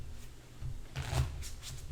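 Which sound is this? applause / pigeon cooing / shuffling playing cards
shuffling playing cards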